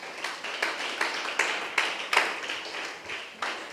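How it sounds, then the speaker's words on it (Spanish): A church congregation clapping together in a service, a steady run of brisk claps at moderate distance that pulse in loose waves with no voices over them. "Dele fuerte el aplauso al que vive"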